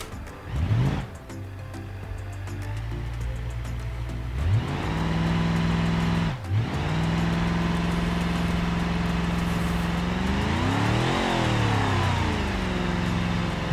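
A big all-wheel-drive SUV in BeamNG.drive attempts a burnout, its engine revving loudly and continuously with repeated rising and falling pitch sweeps.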